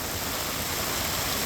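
Heavy rain pours onto Mara Road in Thrissur while it is being tarred, a loud, unbroken wash of hiss close at hand with no distinct drops standing out.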